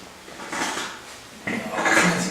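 A bed in an asylum patient room creaks and shifts as people sit down on it, two close bursts of creaking and rustling, the second louder.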